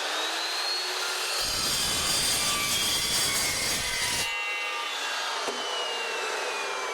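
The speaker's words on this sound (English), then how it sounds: "This is some 2-inch mild steel. Give this a cut." A metal-cutting saw bites into 2-inch mild steel, and a loud, grinding cut of about three seconds rises over the motor's steady whine. The motor spins on alone before and after the cut.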